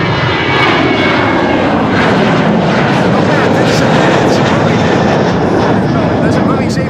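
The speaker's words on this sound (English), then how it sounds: "dat is een Boeing 737." A Transavia Boeing 737 taxis toward the runway at Amsterdam Schiphol Airport, its jet engines a loud, continuous roar with shifting whine. Voices talk over the engine noise throughout.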